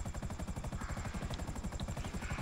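A helicopter in flight, its rotor blades chopping in a steady, rapid rhythm that dominates the sound, loud and close with a continuous engine whine underneath.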